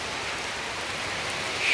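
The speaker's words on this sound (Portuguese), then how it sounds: "Tá chovendo." Rain falling outside a house while someone cooks, a steady soft hiss of many drops that stays even throughout and grows slightly louder at the end.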